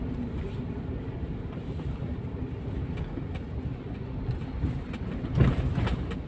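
A light rail train rumbles steadily with low mechanical noise, growing slightly louder near the end as it approaches the station, with no voices.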